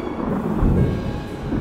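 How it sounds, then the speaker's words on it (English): Deep, heavy thunder rumble in the Golf with Friends video game, a loud continuous roll swelling in the middle and fading slowly, with rain-like hiss and no talking. "when the thunder cracked in the beginning of this hole, I literally jumped"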